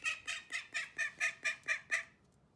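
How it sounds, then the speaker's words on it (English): A played recording of a duck gives nine evenly spaced, harsh nasal quacks in a quick regular rhythm, close and clear, then trails off into quiet. "let me find duck noises"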